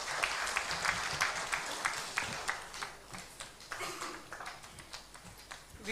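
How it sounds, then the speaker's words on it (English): A conference audience at an Eastern Region civil aviation ministers' meeting claps after a minister's address, a sustained round of applause with individual claps standing out, gradually thinning toward the end. "Can we have another huge round of applause?"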